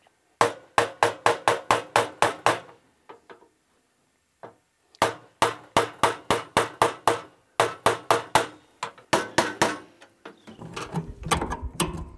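Sharp metallic taps ring out in rapid rhythmic runs as knockouts are hammered from an electrical box, several bursts of evenly spaced strikes separated by short pauses, close and loud, with a rougher clatter at the end.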